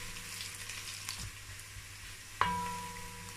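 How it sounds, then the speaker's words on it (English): Onions frying in a pan for jollof rice, a soft continuous sizzle with light stirring scrapes, followed by a sharp clink and a brief ringing tone near the end. "So I fry my onions for about a minute."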